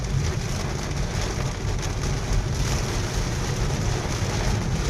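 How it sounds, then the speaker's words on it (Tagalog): Heavy rain pours steadily in a dense, loud roar of drops hammering a surface, with no voices and no letup throughout. "Grabe, kusog sa ulan guys."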